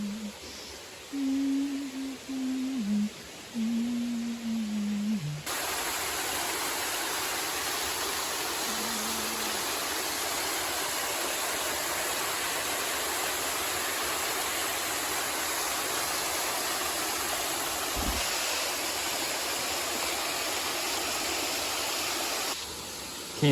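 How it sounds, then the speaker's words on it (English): A constant, loud rush of falling water from a waterfall on Mount Moosilauke in the White Mountains, steady broadband roar with a low hum under it at the start. "There's the waterfall"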